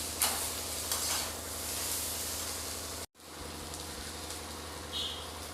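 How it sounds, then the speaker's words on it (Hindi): Capsicum sautéing in a pan for paneer bhurji, a steady close sizzle with occasional stirring scrapes, briefly cut near the middle before the frying noise resumes. "शिमला मिर्च को मैं 1 मिनट तक भूनूंगी।"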